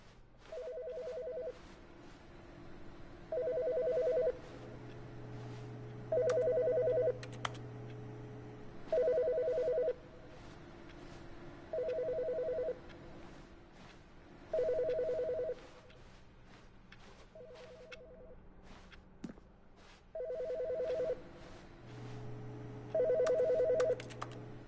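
A telephone rings in the video game The Stanley Parable, giving about nine evenly spaced double-burst rings over a quiet ambient hum, each ring clear and fairly near.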